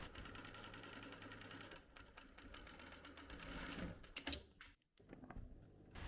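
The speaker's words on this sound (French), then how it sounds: "On réalise donc une première piqûre à 7 mm." A domestic sewing machine runs steadily, stitching a 7 mm seam in fabric, close and moderately loud, with a brief pause and a few clicks near the end and no talking.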